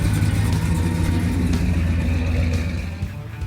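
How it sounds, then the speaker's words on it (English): A 1968 Plymouth Sport Fury engine revving: a deep, throaty rumble held steady and loud, then easing off near the end as the revs drop, close by with no voices. "This is my 1968 Sport Fury."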